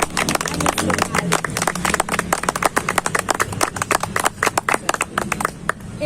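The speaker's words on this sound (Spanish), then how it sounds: "Si lo crees, dale un fuerte aplauso" A church congregation breaks into loud, sustained applause, dense overlapping claps rolling on steadily with no pause, close and full.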